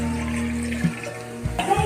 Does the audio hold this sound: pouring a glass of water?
yes